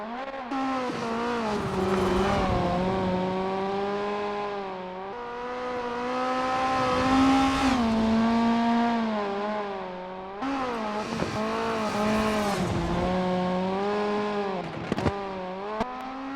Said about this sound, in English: It literally has its pops, its bangs, and it just sounds more like a race car.